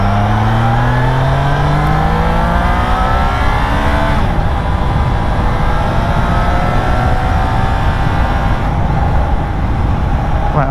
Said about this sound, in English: the engine just sounds so different down in those lower gears, just giving it lots of throttle.